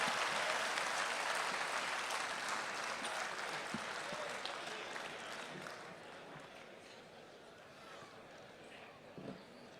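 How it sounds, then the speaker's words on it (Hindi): Audience at a Hindi poetry recital applauds a poet with dense, loud, sustained clapping that fades slightly toward the end, with faint crowd voices mixed in. "एक बार जोरदार तालियां पंडित के लिए बजा दीजिए।"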